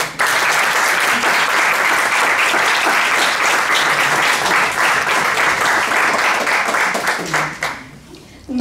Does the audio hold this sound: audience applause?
yes